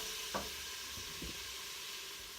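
Bacon cooking in an Instant Pot gives a faint, steady sizzle, with a few soft scrapes and clinks from stirring.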